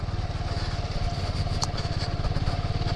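Honda Grom motorcycle engine running steadily close by, a fast even low-pitched putter with no voices over it.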